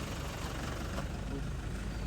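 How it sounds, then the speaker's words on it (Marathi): A car engine idling as the vehicle parks at a temple entrance, a low, steady rumble close by, heard under ongoing talk. "ही आपली गाडी इथे पार्क लागेल आता."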